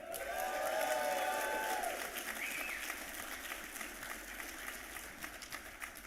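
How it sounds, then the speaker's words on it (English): A raucous audience at the 2024 International Drag Racing Hall of Fame ceremony applauds and cheers in a steady, loud wash of clapping that lasts throughout, with a few bright whistles early on before it eases slightly. "You know we've got a raucous crowd."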